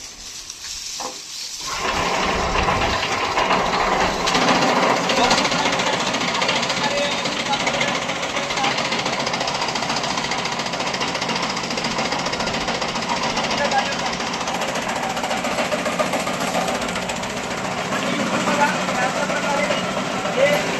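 A fodder chopping machine starts up with a thump and then runs as a loud, continuous grinding clatter while chopping fodder fine, holding steady without a break for about twenty seconds.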